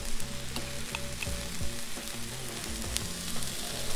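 Garlic sizzling with vegetables on a Blackstone griddle for shrimp fried rice, a steady frying hiss with light scraping and clinks of a spatula, close and continuous with no talking.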